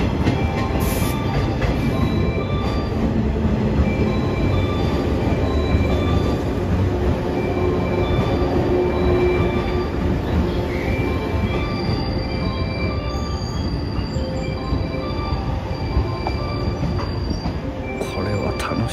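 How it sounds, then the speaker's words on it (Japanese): A freight train rolls through Okayama Station, a steady loud rumble of wagons lasting throughout with high wheel squeal rising now and then over the continuous roar. "本日最初の貨物列車です。"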